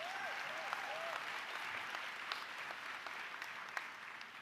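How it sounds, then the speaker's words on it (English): A commencement crowd applauds a graduate with steady, distant clapping that holds at a fairly even level throughout, with a few sharper claps popping out of the wash and faint voices underneath. "Give her a round of applause."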